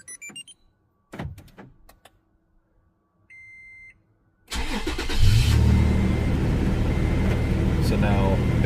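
A 2005-2015 Toyota Tacoma Double Cab starts via a Viper DS4+ remote start: a few clicks and short chirps, a brief relay hum, then the engine cranks and catches into a loud steady idle.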